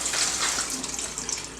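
Cold tap water runs steadily over a cabbage being rinsed, a close, continuous splashing gush with no pauses.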